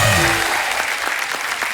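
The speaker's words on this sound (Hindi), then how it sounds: "जोरदार तालियां हमारे मेहमानों के लिए" A studio audience on the Kapil Sharma Show breaks into a short burst of applause for arriving guests, with many hands clapping evenly as a fading tone trails off at the start.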